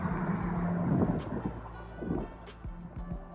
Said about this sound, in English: You can hear the boat right there making its way along here.